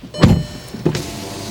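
A brief whirring motor hum of a 2017 Volkswagen Jetta GLI power window moving, with a couple of close thumps from the doors, heard alone in a quiet interior.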